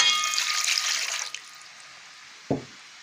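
Warm water pours into a container for dissolving yeast when making pirozhki dough, a bright steady splashing stream that stops after about a second, followed by quiet and a single short clunk.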